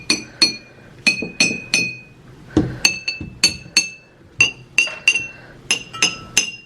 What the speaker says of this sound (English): So you're gonna wanna tap each one. I'm gonna use the back of my knife.